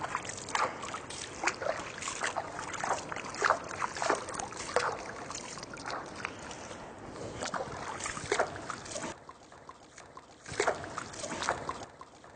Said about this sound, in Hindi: आप पानी लें और इस तरह पानी डालते जाएं और खिलाल करते जाएं।